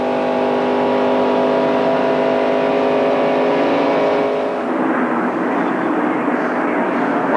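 Stock cars roar past in a 1990s Daytona 500 NASCAR race as broadcast on TV, a loud sustained engine drone with a sharp pitch drop as the pack sweeps by.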